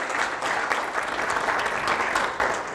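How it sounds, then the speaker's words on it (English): Applause from an audience at an aerospace business luncheon, a steady wash of many hands clapping for nearly three seconds, moderately loud and even throughout. "So give yourself a big round of applause"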